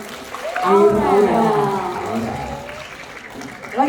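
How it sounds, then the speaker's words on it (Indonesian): Audience applause at a university question-and-answer session, a swell of clapping that rises quickly and tapers off, with a voice speaking over it. "Beri tepuk tangan dong untuk"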